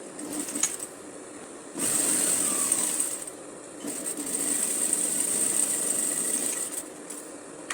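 A sewing machine stitching the back centre seam of tailored shorts, running in two long steady whirring bursts of sewing with short pauses and small clicks between them, close and fairly loud.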